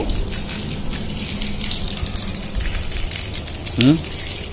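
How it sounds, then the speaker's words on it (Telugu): Water sprays from a hose pipe in a continuous broad hiss and patter across the ground, steady throughout, with a brief faint voice-like sound near the end. "ఇక్కడ పైప్ పెట్టి నీళ్ళు చల్లానా"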